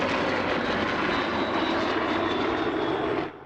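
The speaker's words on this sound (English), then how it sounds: "One of the current L-39 Albatrosses in formation with the classic" L-39 Albatros jet trainers flying in formation with a classic aircraft at an airshow in Pardubice, a steady loud broadband engine roar that holds for about three seconds and then fades slightly as they pass.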